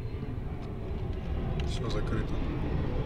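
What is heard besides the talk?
airplanes flying overhead, from video game Evil Inside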